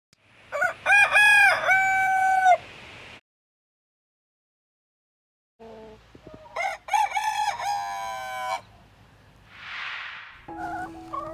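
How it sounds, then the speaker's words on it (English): A rooster wearing a crow collar crows twice close by, each call strained and somewhat muffled, with a short silence between and a brief breathy noise and clucking afterward. "we'll see how effective the crow collar really is"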